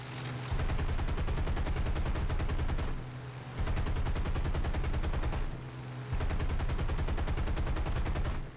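Machine guns firing in bursts during a War Thunder dogfight over a Pearl Harbor mission, loud rapid continuous rattling in three long bursts separated by short pauses.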